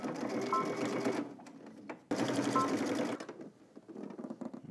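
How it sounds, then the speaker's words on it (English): A sewing machine stitches fabric in two steady, fast-running bursts of whirring stitching separated by a short pause, followed by quieter handling noises, close and clear. "let's head to the machine and let's stitch both ends"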